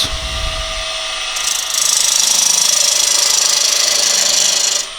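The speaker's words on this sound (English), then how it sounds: "So I'm going to use a peeling cut for this." A skew chisel takes a peeling cut on a wood lathe, shaping a tenon on a blank for a carved flower bud vase. Close, steady hissing and whirring swells louder after a moment and holds evenly until it stops near the end, with no talk.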